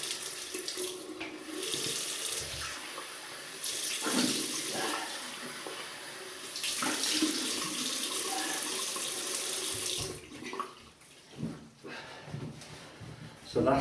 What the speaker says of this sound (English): Now just rinse off.